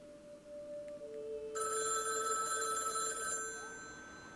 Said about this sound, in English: being jerked awake by a blend of nightmares and the phone ringing on your desk